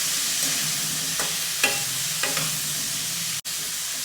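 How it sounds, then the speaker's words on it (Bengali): Pointed gourd (potol) frying in oil with cumin, a constant close sizzle with a few stirring scrapes and one sharp knock near the end. "কিছুক্ষণ ধরে ভাজতে হবে পটলগুলো, লাল হয়ে গেলে তাহলে তুলে নিতে হবে"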